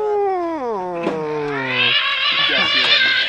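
People imitate a cat growl with a long, drawn-out, descending vocal yowl, followed by higher, rough, strained cat-like sounds, close and loud.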